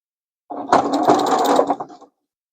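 A sewing machine stitches through bulky quilt binding at a longer stitch length, one short close burst of fast mechanical whirring and clatter lasting about a second and a half, with silence on both sides.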